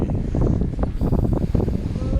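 Strong wind gusting across an open freshwater fishing spot, a loud rough roar of buffeting against the microphone, continuous and close, with no talking.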